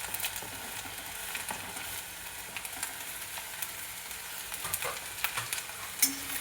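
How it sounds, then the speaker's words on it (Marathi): Okra sabzi with asafoetida, turmeric, tomato and coriander sizzles in a pan as it is stirred, a steady close frying hiss broken by occasional scraping clicks, with no talk. "आणि छान हलवून घ्यायचं आणि झाकून ठेवायचं"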